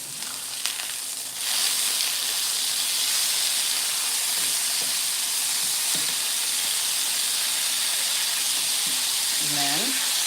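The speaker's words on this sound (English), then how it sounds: "Okay, let those fry up for just a second." Paprika-seasoned floured food frying in hot oil for smash burgers and fries, a steady loud hiss and sizzle with a few faint clinks and a brief squeak near the end.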